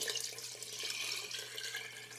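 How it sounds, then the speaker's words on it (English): Chicken broth pours into a soup pot, a quiet steady liquid stream with faint splashing heard alone. "now we're going to go in with 8 cups of chicken broth"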